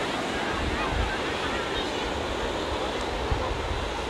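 Arabian Sea surf at Baga Beach, Goa, a steady loud wash of breaking waves with wind rumble on the microphone, continuous throughout.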